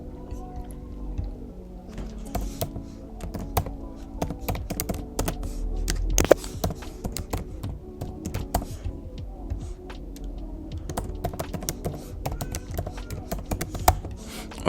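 Quick, irregular clacking of a computer keyboard as an email and password are typed in, close and steady across the whole stretch with soft background music underneath.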